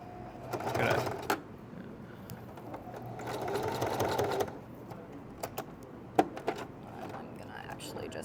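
A sewing machine stitches slowly across a zipper seam as its wheel is turned by hand with no pedal, making uneven whirring runs with sharp clicks and knocks and a faint voice underneath.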